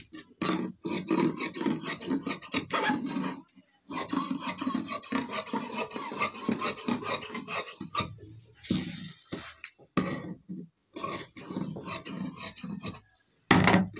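Scissors cut through salwar fabric on a tailoring table, a series of close, rasping snips in bursts with short pauses, no talking.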